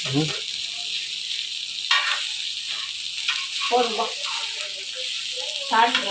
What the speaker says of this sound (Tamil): உனக்காக மீன்லயே ஹாட்லாம் போட்டு வறுத்துட்டு இருக்கேன்